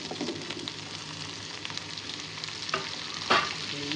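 Cauliflower pieces tipped into a hot pan of oil for a quick pickle, sizzling steadily while a spoon stirs and scrapes through them, with a couple of sharper clatters near the end.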